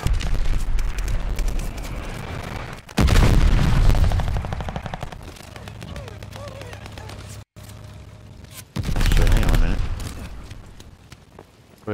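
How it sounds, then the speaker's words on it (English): Explosions and gunfire in Call of Duty Vanguard multiplayer: loud booming blasts with crackling shots, including a heavy burst around the middle and another near the end, with a short dropout between them. "Enemy's got a glide bomb incoming"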